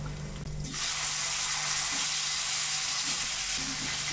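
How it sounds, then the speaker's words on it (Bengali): Tomatoes hit hot oil already seasoned with a dried red chili and asafoetida in a pan for a Bengali mixed-vegetable dish; after a short quiet moment a loud, dense sizzle bursts up and keeps frying steadily. "টমেটোটাকে একটু হালকা ভেজে নেব।"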